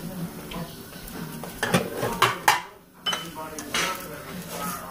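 Rice toasting in a pan for Spanish rice, with a utensil stirring and scraping against the pan, giving repeated clinks and scrapes over a low sizzle, close and moderately loud.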